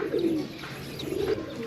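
Two soft coos from desi pigeons, a low throaty call repeated after a short pause, over faint ambient background noise.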